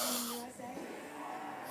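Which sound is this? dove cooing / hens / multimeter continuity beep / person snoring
person snoring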